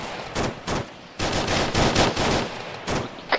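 Repeated bursts of automatic gunfire in a shooter video game, loud, close and crackling, with several rapid volleys separated by short pauses.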